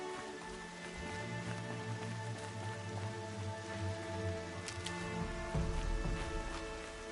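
Steady rain falling in the video game Horizon Zero Dawn, a continuous hiss over low sustained ambient tones, with a brief louder swell near the end.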